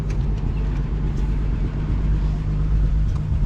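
A classic Chevy car engine runs steadily while driving, a continuous low rumble heard close up from inside the car with no talk over it.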